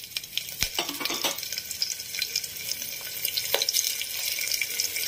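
A tempering of black pepper, green chillies and ginger pieces sizzles in hot oil for temple katte pongali, a steady close crackle with a few sharp spatters and stirring scrapes.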